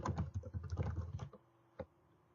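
Quick keystrokes on a computer keyboard, a close run of soft clicks for about a second, then a pause and one last isolated tap.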